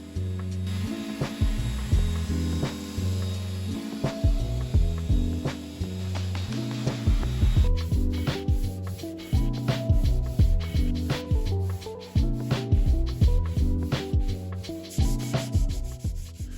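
A power sander works across the surface of an old mid-century wooden vanity desk, a loud continuous grinding drone that rises and falls in a steady back-and-forth rhythm for the whole stretch, with no voices.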